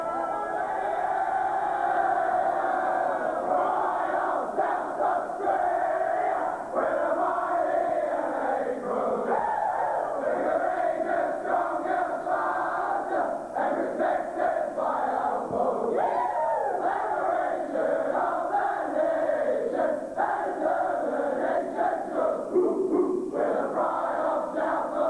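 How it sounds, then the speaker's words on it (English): Adelaide Crows players at Football Park after a win over the Brisbane Lions in 2002, chanting their team song loudly in unison as a roaring group, sustained throughout without pause. "As they assemble for the team song, this will be sung with great gusto."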